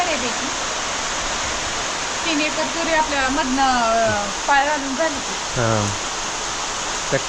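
Heavy rain roars steadily over a farm field as a dense broadband wash, with voices talking intermittently over it.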